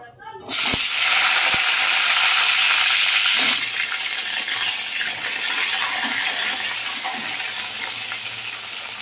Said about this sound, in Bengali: এবারে আগে আলুটা ভেজে নেব